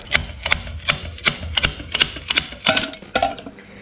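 A bearing's inside cage being ripped out with multi-grips: a rapid run of sharp metallic clacks and rattles in quick, uneven bursts, close by and fairly loud.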